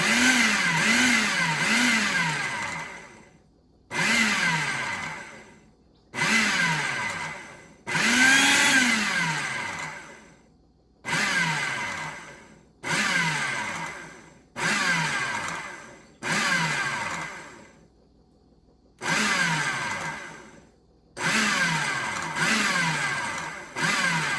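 A food processor pulses pico de gallo in a plastic bowl, with about ten loud whirring bursts of a few seconds each, every one winding down before short gaps of silence.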